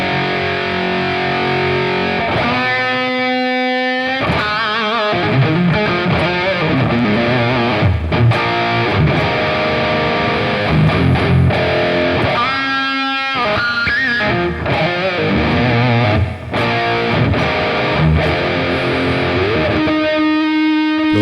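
A heavily distorted electric guitar through STL AmpHub amp software plays a loud lead line with sustained, saturated notes and quick runs, continuing for about twenty seconds.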